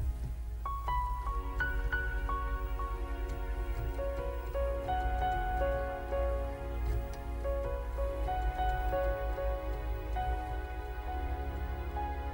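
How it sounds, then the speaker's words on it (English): A piano preset on a Lowrey Stardust SU530 organ plays a gentle melody of struck notes that ring and fade one after another, with a constant low background hum beneath. "Or a piano sound."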